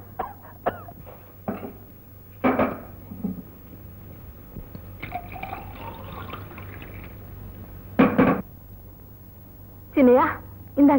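Water trickles and splashes as it is poured for drinking in a comedy film scene, in short faint bursts between coughs and spoken voices.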